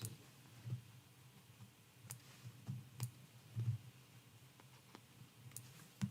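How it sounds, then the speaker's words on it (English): Scissors snip loose jump stitches on the front of a Christmas appliqué quilt block, giving sparse, faint, sharp clicks at irregular intervals over a quiet room. "I'm going to cut these little jump stitches on the front."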